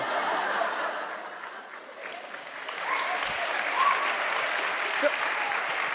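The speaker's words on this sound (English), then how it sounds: "Don't clap for that." A studio audience at an interview breaks into steady, moderately loud applause mixed with scattered chuckles and laughter, with a voice faintly heard over it.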